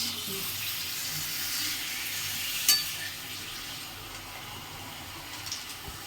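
Curry stirred and sautéed in a pan, giving a steady hissing sizzle with scraping stir sounds and one sharp clink partway through, close and even, no talk.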